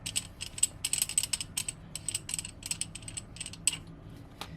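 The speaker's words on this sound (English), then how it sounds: "So first, you want to undo the pommel," Pommel of a Luke Skywalker Return of the Jedi lightsaber replica from 89Sabers being unscrewed, giving a close series of quick ratcheting clicks in bursts, moderately loud and alone.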